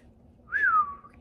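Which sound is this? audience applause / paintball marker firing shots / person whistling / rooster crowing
person whistling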